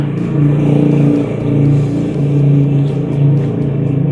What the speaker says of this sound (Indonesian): ada motor lewat kenceng banget knalpotnya